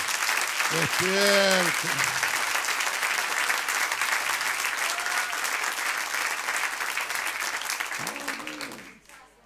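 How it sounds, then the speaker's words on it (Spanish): A church congregation applauds loudly and steadily during a Spanish-language sermon, with a steady wash of clapping throughout and a voice speaking over it at the start and near the end. "Den un aplauso a él, mi hermano."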